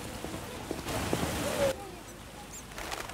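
Steady rain pours down in The Witcher, a hissing wash of drops that swells loudly in the middle and eases back, with scattered faint chirps and small ambient sounds over it.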